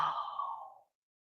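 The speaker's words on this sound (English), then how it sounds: "And breathe out" A slow, soft exhale during chair yoga breathing, a single breath out through the mouth that tapers off and fades into silence within a second.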